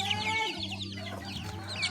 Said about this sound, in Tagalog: Kumakain po ng mangga ating mga alagang manok